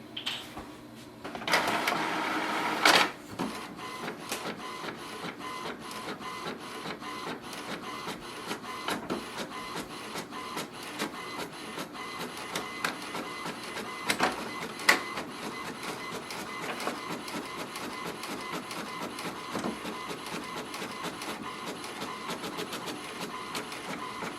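An HP Envy 6152e inkjet printer runs steadily, its mechanism whirring and clicking in a continuous rhythmic chatter, with a brief louder burst near the start.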